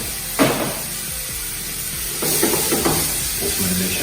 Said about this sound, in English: We're going to be using approximately 2 tablespoons of olive oil. Add that to the skillet.